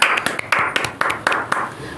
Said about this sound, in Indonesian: Kita berikan tepuk tangan untuk rekan Ammar Tauhid.